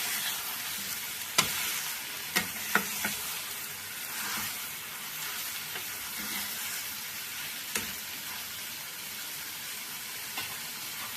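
Sliced mushrooms being stirred into a frying masala gravy in a pan, a steady close sizzle with a few sharp clinks of the spoon against the pan scattered through it.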